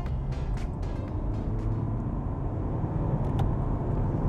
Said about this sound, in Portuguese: estamos aqui a falar de um carro que já acelera